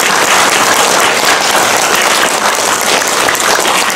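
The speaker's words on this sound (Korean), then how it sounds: "그 부모님을 생각해서 박수 한번 보내주시랍니다." Dense, loud applause from a lecture-hall audience at a public lecture on filial piety, steady crowd clapping throughout with no voices over it.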